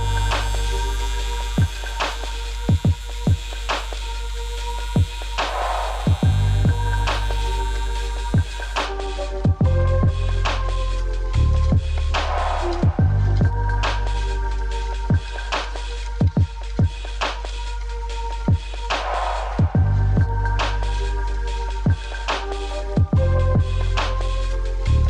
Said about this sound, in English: So we're welding some aluminum at, with the pulse setting on here at 120 amps.